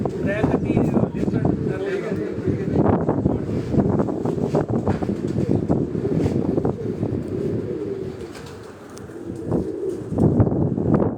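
Pigeons, including a baby pigeon among the adults, coo in repeated low soft calls under steady wind noise, with someone talking over them throughout.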